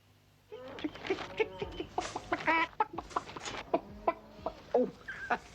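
Free-range chickens clucking in a 1990 TV advert, a busy stream of close clucks and squawks from several hens overlapping one another, with a brief voice underneath.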